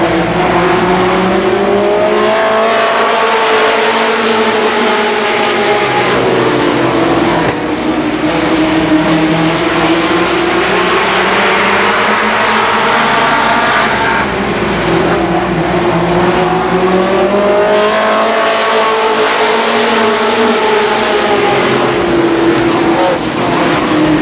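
Race cars scream around Columbus Motor Speedway in 1990, a loud, continuous pack of engines rising and falling as they lap past, with no voices over the din.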